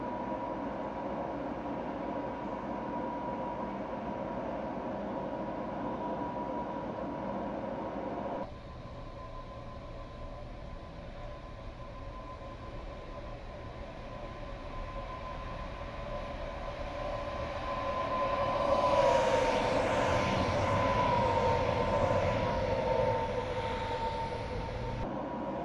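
A BR 481 S-Bahn train in Train Simulator Classic passes by with a steady rumble and hiss, growing louder toward the end as the wagons roll close alongside, with no talking.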